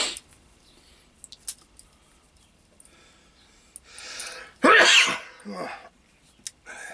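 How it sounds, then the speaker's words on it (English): A man sneezes once, loudly and close by, a sharp burst followed by a short exhale, with small clinks and handling sounds before it. "I'm going to sneeze, I think."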